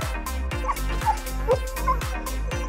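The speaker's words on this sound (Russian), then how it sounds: "ну что ты сразу гавкаешь?" A dog yips and barks in short, repeated bursts close by, with a whimpering edge, over a regular thumping rhythmic beat running underneath.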